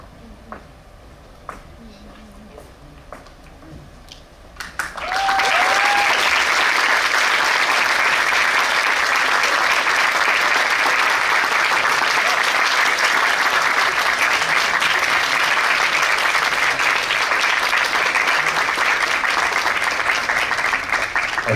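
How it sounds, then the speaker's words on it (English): After a few seconds of quiet room murmur with a short vocal sound, a concert audience bursts into loud, full applause for a string ensemble and keeps clapping steadily to the end. "a round of applause for the SP String Ensemble themselves"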